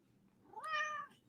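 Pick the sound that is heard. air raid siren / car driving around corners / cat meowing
cat meowing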